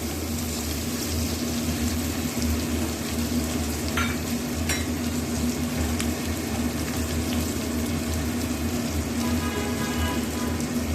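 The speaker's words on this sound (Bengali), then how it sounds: "পেঁয়াজগুলো একটু ভেজে ভেজে নিই" Onions frying in oil in a home-kitchen pan, a steady crackling sizzle with occasional sharp stirring clicks running evenly for about eleven seconds, no voices.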